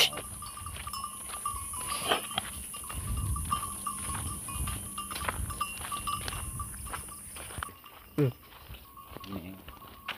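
Goats bleat now and then amid a busy outdoor scene, with people talking nearby and some clattering in the background.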